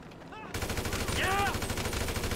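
Rapid automatic gunfire in GTA 5, a loud sustained burst of shots after a brief quieter start, with a voice briefly audible.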